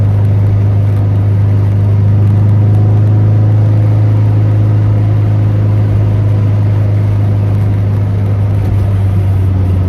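A turbo B18 Honda Integra on a country road, heard from inside as a loud, constant low engine drone with steady road rumble throughout.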